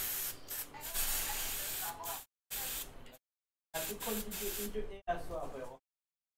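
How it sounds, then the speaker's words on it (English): Freeze spray aerosol is sprayed onto a Lenovo laptop motherboard in several loud, hissing bursts, sputtering and cutting out between pushes, with gaps of silence in between. "My spray doesn't want to work proper, so."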